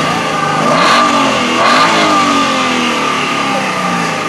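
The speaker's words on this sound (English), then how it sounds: "Give it a little rev." A V8 engine revs twice in quick bursts over a steady rumble, loud and close, with no talking over it.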